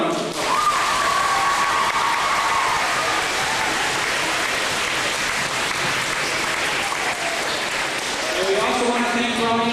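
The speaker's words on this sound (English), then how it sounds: "So please give them a round of applause" Crowd at a town hall event in Summerside, Prince Edward Island claps steadily and loudly for about ten seconds, with voices, cheers and chatter mixed through the applause.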